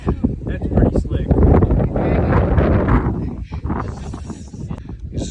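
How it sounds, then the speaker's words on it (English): Wind buffets the microphone aboard a sailboat at anchor, a loud rumbling gusty roar that swells and eases, with scraping and people talking over it. "A little windy."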